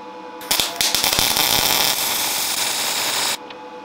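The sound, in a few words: welding with vinegar and baking soda shielding gas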